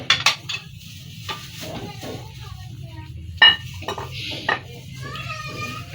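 Metal utensils clink and scrape against a dish as gajar halwa made with desi ghee is served out, several short bright taps over a low hum, with a voice faintly in the background.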